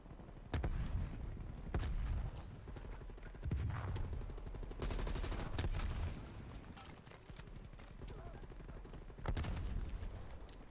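Frag grenade bursts and surrounding gunfire in a first-person shooter video game, several loud booming blasts recurring in bursts over a continuous crackling fire-fight din.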